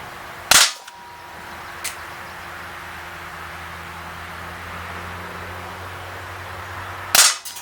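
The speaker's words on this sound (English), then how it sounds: "Going to put 8 rounds into this target." An Umarex Beretta 90two CO2 BB pistol fires two sharp, loud single-action shots about seven seconds apart, with a soft click in between over steady outdoor hiss.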